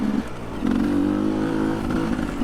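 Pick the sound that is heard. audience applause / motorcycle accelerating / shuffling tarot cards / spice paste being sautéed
motorcycle accelerating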